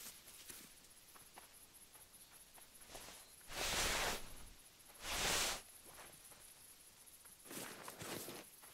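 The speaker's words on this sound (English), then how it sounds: "but I can hear something trot." Animal trotting footsteps in the hunting game Call of the Wild, quiet scattered steps punctuated by two louder rustling bursts, with no talk over them.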